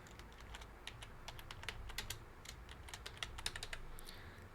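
Quiet, rapid key taps on a computer keyboard come in short irregular bursts of clicks, fairly close but soft, with a low room hum beneath.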